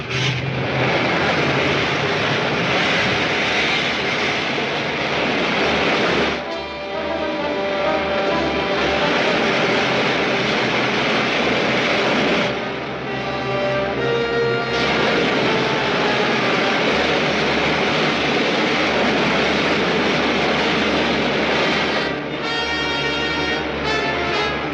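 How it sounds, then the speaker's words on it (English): Rocket ship main jets firing as a 1950s sci-fi serial sound effect: a loud, steady roaring rush, like a jet engine, sustained with no talk and only slight dips in level. "Firing main jets."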